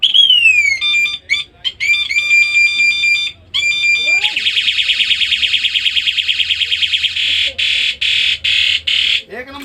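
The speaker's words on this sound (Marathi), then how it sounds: "एकच नंबर हॉर्न आहे, जबरदस्त विषय" An electronic bicycle horn accessory, close and loud, cycling through several siren and beeping tones, including a rapid pulsing warble and short repeated blasts.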